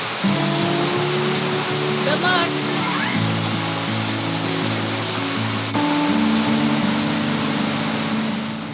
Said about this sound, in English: It's supposed to be downpour like this for the next 4 hours.